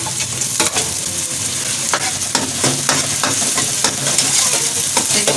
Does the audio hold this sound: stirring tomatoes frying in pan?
yes